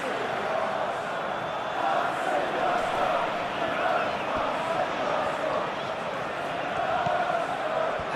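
Stadium crowd in a PES 21 Arsenal vs Chelsea Premier League simulation, a steady, dense roar that swells and eases slightly throughout, with a commentator's voice running over it.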